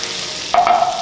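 Spices drop into melted butter in a hot pan and start frying at once, a sudden close sizzle swelling over a quiet background hiss.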